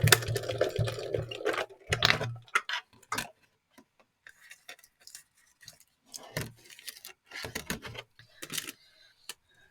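A sewing machine stitches fabric scraps, short runs of rapid mechanical ticking and clattering in close bursts separated by quiet pauses, with occasional clicks between them.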